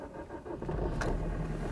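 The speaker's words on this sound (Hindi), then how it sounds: "अब देखिए इंजन की आवाज़ सुनिए पहले आप" A car engine cranks and catches in snowy cold at Solang Valley near Manali, a low rumbling turnover building into a steady, loud idle close by.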